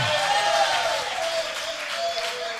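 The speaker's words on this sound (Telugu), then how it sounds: "గట్టిగా చప్పట్లు కొడుతూ ప్రభుని కనపరచండి" Church congregation clapping loudly at a Telugu worship service; a dense, sustained patter of many hands, strong and continuous, with no one speaking over it.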